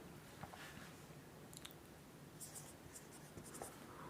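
Someone writes on a board during a class, making faint, soft scratching strokes in short irregular bursts over a quiet background.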